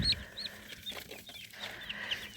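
Young chicks in a five-day-old flock crowd around their feed, clucking and cheeping in short overlapping calls, moderately close and fairly quiet.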